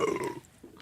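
A short, loud burp right after drinking Boost soda, a single throaty belch that fades within half a second, close up and alone.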